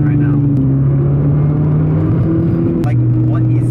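A 2013 Mini Cooper GP hatchback driven hard as a track-style car, its engine droning steadily with shifting pitch from inside the cabin, loud and continuous, with a voice talking over it.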